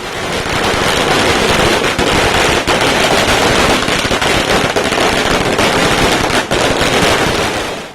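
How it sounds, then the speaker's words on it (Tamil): Firecrackers burst at an AIADMK election victory celebration after the Coimbatore corporation poll, heard as a dense, loud, nonstop crackle of rapid-fire bangs lasting several seconds, with no talk. "கழக நிர்வாகிகளும் தொண்டர்களும் பட்டாசுகள் வெடித்தும் இனிப்புகள் வழங்கியும் இந்த வெற்றியை மகிழ்ச்சியுடன்"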